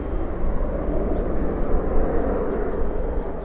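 A Qantas airliner bound for Melbourne, wearing the Yam Dreaming livery, rumbles at DFW airport at night, a continuous loud low jet roar holding steady throughout.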